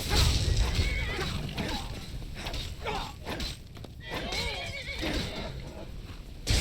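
A horse whinnies repeatedly over dense, noisy background sound in the video game Skyrim, with hoof clops and a few thuds mixed in.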